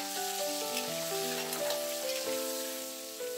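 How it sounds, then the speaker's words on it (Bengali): Potatoes frying in hot mustard oil in a wok make a steady, soft sizzle and crackle beneath louder melodic background music. "প্রথমে কড়াইয়ের মধ্যে সর্ষের তেল গরম করে নেব, তারপর আলুটাকে ভালো করে ভেজে নেব"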